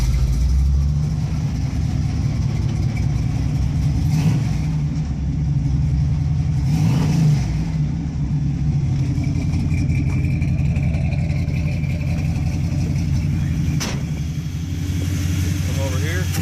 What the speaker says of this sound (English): I didn't get to show you guys me starting the car.